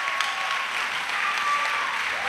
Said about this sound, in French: Acclamations à Jésus-Christ.